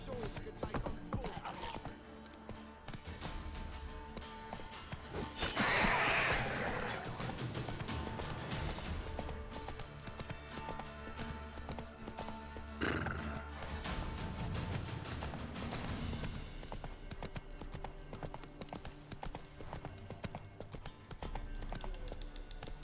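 Roach the horse galloping in The Witcher 3 video game, with steady rhythmic hoofbeats running through the whole stretch, a brief neigh and crashing commotion partway in, and voices talking over the gameplay.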